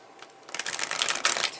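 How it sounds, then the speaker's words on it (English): A deck of tarot cards being shuffled by hand, a soft riffling patter that grows busier and louder after a quiet start, close and alone with no talk. "I'm just going to go ahead and shuffle a couple more times"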